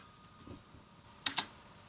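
Typing a command into a Windows command prompt on a computer keyboard: a couple of soft keypresses, then two sharp, close clicks near the end of a quiet moment.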